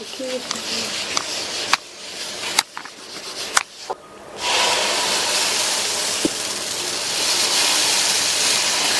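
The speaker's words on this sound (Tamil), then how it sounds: "ஒரு டிராப் எண்ணெய் விட்டுட்டு நல்லா தொடச்சு விட்டுறலாம்." Oil hits a hot cast-iron dosa griddle and breaks into a steady, close hissing sizzle that builds and continues, following a few sharp knocks and clatters of the pan being handled.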